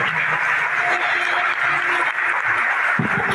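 A church congregation applauds at the close of a sermon, a dense, steady wash of clapping that fills the room, with faint talk and music underneath.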